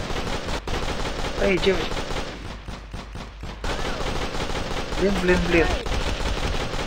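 Video-game gunfire in a pixel-style zombie survival game, rapid bursts of shots aimed at the player, loud and continuous with a brief lull in the middle, while a young voice speaks over it.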